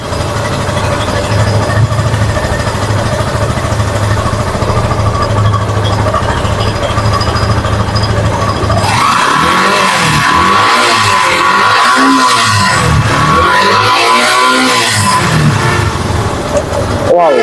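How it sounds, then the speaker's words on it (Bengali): A second-hand Yamaha FZS V3 motorcycle idles with a steady, close engine hum. Midway it breaks into a series of rising and falling revs that swell and drop in repeated waves. "এখন আমরা শোনাবো গাড়ির সাউন্ড কোয়ালিটি।"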